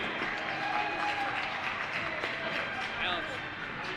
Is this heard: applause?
yes